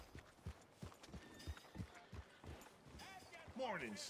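Hooves of Sadie's horse clop along in a video game, a steady rhythmic series of soft thuds at a trot, with a voice coming in over them at the end.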